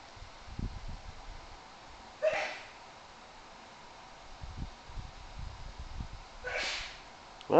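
A person sneezes in a quiet room during a live animation stream, two short sharp bursts a few seconds apart over faint background rustle and muffled sounds.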